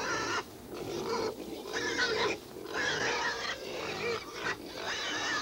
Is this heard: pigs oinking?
yes